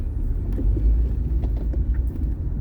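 A car driving along city roads in Dnipro, heard from inside: a steady low engine and road rumble with faint bumps and rattles, moderately loud and continuous, with no talking.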